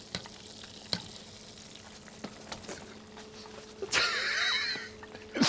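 A Milanese cutlet fries half-submerged in butter, giving a soft, steady crackle broken by a few sharp clicks of utensils, then a louder burst of sizzling near the end.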